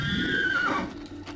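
A horse in the video game Assassin's Creed lets out a single loud descending whinny, close and clear, trailing off after about a second.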